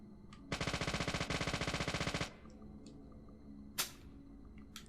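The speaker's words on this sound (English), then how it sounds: "Infinite submachine gun." A submachine gun in Deadly Premonition fires one rapid, sustained burst of about two seconds, loud and close. Quiet follows, with a few faint clicks.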